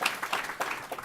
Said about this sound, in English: Another round of applause for Nancy Roland Heinrich at National University